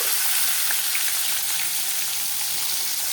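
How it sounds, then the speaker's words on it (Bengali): Fish fries in a pan on the stove, giving a loud, dense, continuous sizzle and hiss at close range with no pauses and no voices. "এই যে মাছ ভাজাটা বসিয়ে দিলাম"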